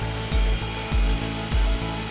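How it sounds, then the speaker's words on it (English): A finely tuned sanding belt hones a cutlery knife blade in a factory, a steady loud grinding whir with rhythmic low surges roughly every 0.6 seconds as the blade is worked against it. "holding the blade steady at a precise angle against a finely tuned sanding belt"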